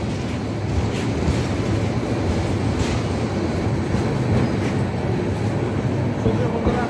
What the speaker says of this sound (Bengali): চিটাগাংয়ের উদ্দেশ্যে ট্রেনটি ছেড়ে চলে যাচ্ছে আমাদেরকে রেখে।